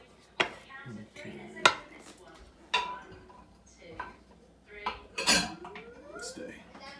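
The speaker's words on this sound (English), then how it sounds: "Dirty dishes." Dirty dishes, pots and cutlery clatter in a home kitchen while lentil meatballs are being cooked, with several sharp clanks and scrapes spread across the stretch and a louder cluster near the end, with faint voice in the background.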